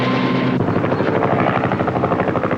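A helicopter flies overhead during a rough-terrain rescue practice with a sling, its loud, steady rotor roar beating continuously throughout, close and unbroken.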